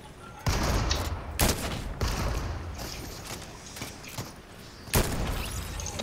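Fortnite gunfire in a video game match, several loud sharp shots spaced irregularly across a dense background of game sound.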